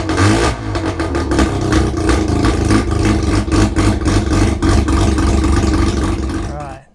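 A car engine in an RX 323 under restoration, revved hard and loud and close for about seven seconds with a rough, clattering roar, then cut off abruptly at the end.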